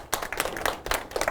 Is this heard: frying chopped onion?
no